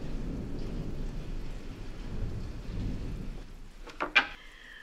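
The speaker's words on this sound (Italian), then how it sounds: "Ma piove con il sole!" Steady rain falls during a sun shower, a broad even wash of patter for several seconds before a couple of brief louder knocks near the end.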